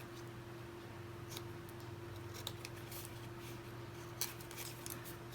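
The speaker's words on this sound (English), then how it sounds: "And then I will just trim off the rest of this edge." Scissors trim the edge off a paper frame in a quiet room, giving faint, sparse snips over a steady low hum, with no talking.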